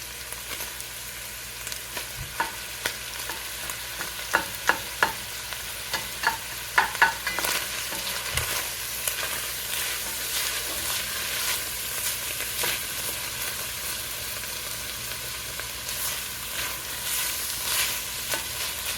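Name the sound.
stirring peppers frying in a pan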